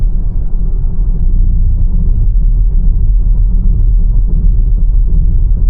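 Tesla Model Y dual motor rolling over roadway reflectors, a continuous low road rumble and suspension thrum inside the cabin, steady and fairly loud with faint repeated bumps and no talking.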